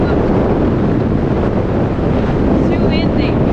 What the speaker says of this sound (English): It wasn't windy at all, but you just come up a little bit and it's getting absolutely blasted.